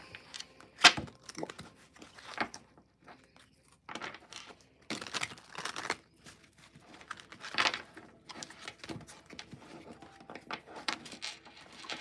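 A deck of slippery tarot cards being shuffled close by, with bursts of riffling and crisp slaps separated by short pauses, no talking.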